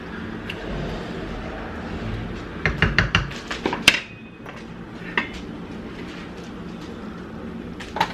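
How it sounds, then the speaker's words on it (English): A spoon scraping and clinking against a pot as seasoning is stirred into rice, a short burst of metallic knocks with one sharp clank, then quieter occasional taps over a low background hum. "A quick stir."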